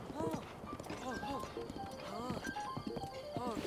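A horse in The Legend of Zelda: Breath of the Wild snorts and whinnies restlessly, its hooves clip-clopping steadily nearby while a person talks over the game sounds throughout.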